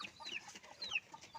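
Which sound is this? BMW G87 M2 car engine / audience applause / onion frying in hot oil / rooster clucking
rooster clucking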